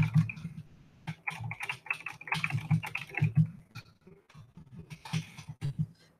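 Fingers tap on a computer keyboard in a quick, irregular run of close clicks and key presses, with short pauses between bursts.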